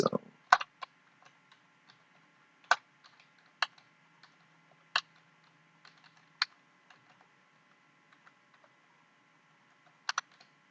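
Computer keyboard keys clack in scattered single taps and short bursts while an email address is entered, crisp and close in a quiet room, with long pauses between groups of strokes.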